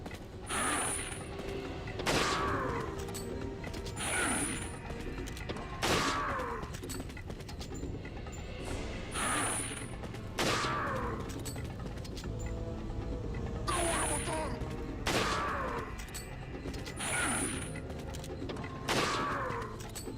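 A minigun firing in the Resident Evil 4 video game (2005), delivering loud bursts of rapid fire repeated every couple of seconds with mechanical clatter between them.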